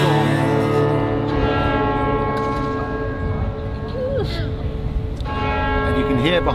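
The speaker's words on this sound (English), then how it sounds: "you can hear behind me the bells of St Paul's" The bells of St Paul's in London ring out at midnight, a loud, rich wash of overlapping peals sustaining throughout as a voice speaks faintly underneath.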